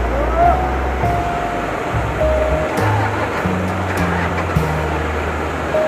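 Water rushes steadily near a bridge at a lake on a mountain motorbike tour, a broad continuous roar with a low rumble beneath and faint tonal whines drifting over it.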